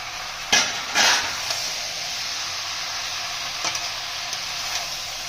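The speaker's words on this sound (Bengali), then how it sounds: "ভালোভাবে কষিয়ে নিয়ে একটু ঢাকা দিয়ে দেবো আস্তে করে।" Ridge gourd, pumpkin and eggplant sauté in a pan, giving a steady, close sizzle throughout with a couple of brief stirring scrapes near the start and a few faint clinks later.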